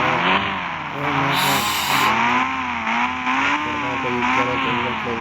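A motorbike ridden in a 3D bike video game gives off a loud, continuous synthetic engine drone whose pitch keeps rising and dipping as it revs. A brief bright hiss of skidding or screeching cuts in partway through, with no talking.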